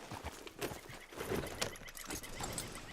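Horse hooves clip-clop at a steady trot in the video game Red Dead Redemption 2, with a horse neighing and snorting close by.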